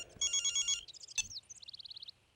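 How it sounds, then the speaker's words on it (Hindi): A telephone rings in short trilling bursts, followed by a quicker chirping ringtone pattern, fairly faint and alone with no voices. "सरकार लागत है कनौड़िया के घर से फोन आयो है।"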